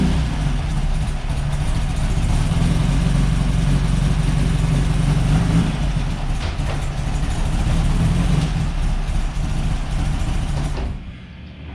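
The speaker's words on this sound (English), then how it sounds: "Wow, that motor moves a lot." Engine of a Baja Bug on its first start, running steadily and loudly close by with a heavy low rumble throughout, dropping away near the end.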